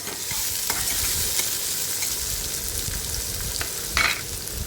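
Onion and finely chopped tomato sauté in a hot pan for a spicy masala vangi, with a steady broadband sizzle and spatula scrapes and clicks recurring throughout, close and fairly loud.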